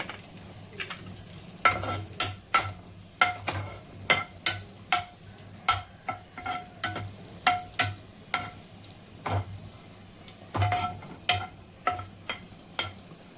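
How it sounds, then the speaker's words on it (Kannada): Raisins and cashews roasting in ghee in a pan, a low sizzle beneath a regular series of sharp spoon taps and scrapes against the metal, close and rhythmic. "ಈಗ ದ್ರಾಕ್ಷಿ ಹಾಕಿ ಹುರಿತಾ ಇದ್ದೇನೆ"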